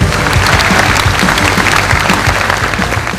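Loud, sustained applause from a conference audience welcoming Turkey's health minister to the stage at an automotive innovation event, a thick continuous wash of clapping that fades slightly at the end.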